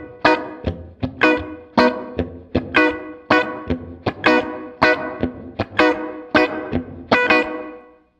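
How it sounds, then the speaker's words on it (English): Electric guitar played through a Fender Marine Layer reverb pedal with the pre-delay control raised, about eighteen sharp plucked notes in a steady rhythm, each trailing into a separated reverb tail, loud and alone. "You can hear the reverb gets a little more prominent as that control gets up"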